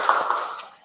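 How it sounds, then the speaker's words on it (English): A brief burst of audience clapping at a startup talk event, a short, close round of hands that quickly tapers off within a second. "Round of applause, please."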